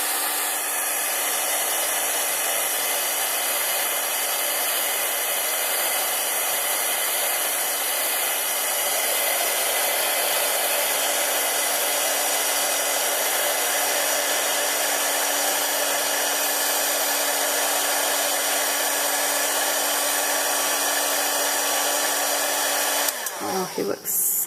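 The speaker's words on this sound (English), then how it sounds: "I'm going to get my heat tool, and this is really loud" A loud embossing heat gun melts clear embossing powder on a gingerbread man snow globe craft, giving a constant close, strong fan-like whoosh with a steady whine that runs unbroken and then stops abruptly near the end.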